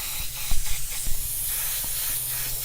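Airbrush spraying paint onto a T-shirt, a steady close hiss of compressed air running the whole time, with a few soft clicks and brief bursts as the trigger is worked.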